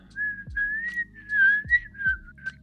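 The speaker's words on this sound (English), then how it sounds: "Just whistling, not making eye contact." A person whistles a clear, wandering high tune for several seconds, close and steady, with a few soft low thumps underneath.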